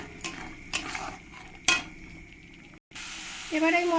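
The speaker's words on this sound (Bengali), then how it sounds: "দিয়ে ভালো করে মশলার সঙ্গে কষিয়ে নেব ভালো করে নাড়িয়ে চাড়িয়ে সব কিছুর সঙ্গে মিশিয়ে নিতে হবে" Ground spices fry and are stirred in a pan for prawn malai curry, a steady sizzle broken by a few sharp scrapes and clinks of a spoon against metal, close and fairly loud, with a brief pause near the end.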